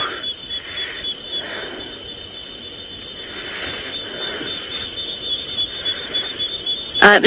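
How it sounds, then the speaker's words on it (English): High, steady cricket chirping at night on a safari drive, with soft pulsing calls in the background and a brief louder noise at the end. "I can only hear the crickets, which is that high-pitched, repetitive sound."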